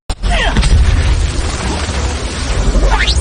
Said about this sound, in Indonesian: Dan terjadi ledakan yang begitu hebat.